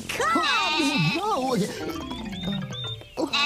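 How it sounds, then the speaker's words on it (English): A sheep on a children's television show gives several wavering, nasal bleats one after another, loud and close, then fades into a lower drawn-out call. "That's just Herkimer, one of the sheep"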